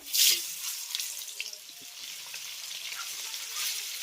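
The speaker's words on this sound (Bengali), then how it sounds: "ডিমটাকেও আমি একটু হালকা করে ভেজে নেবো" Egg frying in oil in a pan alongside fried potatoes, a steady close hiss and crackle with a sharp burst of sizzle at the start and continuous spitting throughout, no talking.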